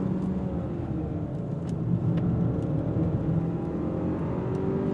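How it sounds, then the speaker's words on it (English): A 2024 Hyundai Sonata N Line accelerates hard and struggles for grip, its engine giving a steady, loud whirring drone heard from inside the cabin, with a few faint ticks over it. "when you're really pushing this car, I can sense you are wasting power"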